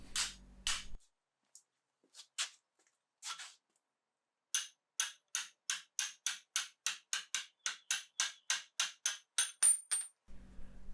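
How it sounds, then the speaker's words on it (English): Repeated hammer blows drive a tapered punch against a stuck bolt in an old blacksmith post vise, a few scattered strikes followed by a fast steady run of about twenty sharp metallic hits, close and loud. "try to pound it the rest of the way through and use a tapered punch"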